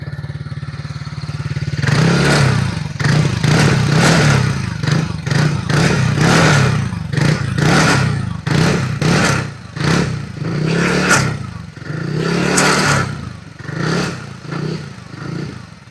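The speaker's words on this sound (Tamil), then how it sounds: "ஸோ அப்போ நம்ம எக்ஸாஸ்ட் நோட் எப்படி இருக்குது அப்படிங்கிறத பார்க்கலாம்." A TVS Ntorq 150 scooter's engine and exhaust rev in loud, repeated blips, rising and falling in quick bursts close to the listener, with no talk over it.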